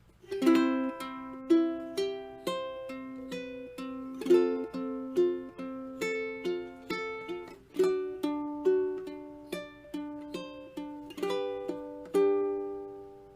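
A ukulele is picked in a gentle fingerstyle pattern, playing the hymn It Is Well With My Soul, clear plucked notes ringing out in chords at an even, unhurried pace, played alone.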